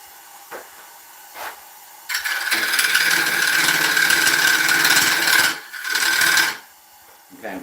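An oak platter turns on a wood lathe at 723 rpm. The workshop is quiet at first, then a loud, steady rasping hiss with a sustained whine runs for about four seconds, breaks off briefly, returns, and stops.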